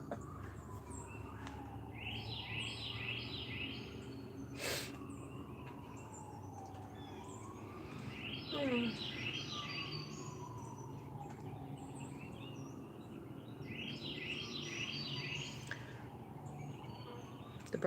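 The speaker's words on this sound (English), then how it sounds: "The birds are going tweety," Birds chirp and sing in repeated bursts outdoors by a front porch in the morning, moderately distant, while a siren wails in long rising and falling sweeps in the background.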